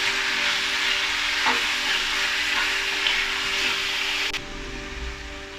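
Tomato tipped into a pan of browned onion and ginger garlic paste for Punjabi-style rajma masala, giving a loud, steady frying sizzle with stirring that eases off sharply near the end.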